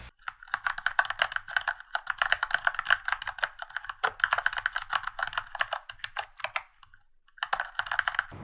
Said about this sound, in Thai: ถามว่าปัจจุบันนี้เสียงคีย์บอร์ดยังดังอยู่หรือไม่ลองไปฟังดูครับ